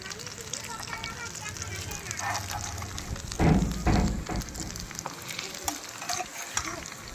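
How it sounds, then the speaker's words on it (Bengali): Pakoras frying in hot oil with a steady sizzle, broken by a few stirring clatters and scrapes; faint speech noise sits in the background. "আমার এক নম্বর ভাজা গেছে আমি দু নম্বর ভেজে নিচ্ছি"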